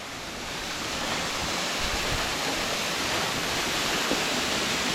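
Water pours steadily beside a Slovenian mountain waterfall, a loud, continuous broadband rush with no breaks and no voices over it.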